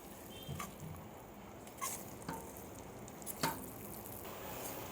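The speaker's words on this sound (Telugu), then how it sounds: "ఇదిగోండి ఎగ్ కూడా చక్కగా వేగిపోయింది" Eggs frying together with amaranth greens in a pan, a low steady sizzle with a few soft stirring scrapes and taps at intervals, close by and fairly quiet, with no talking.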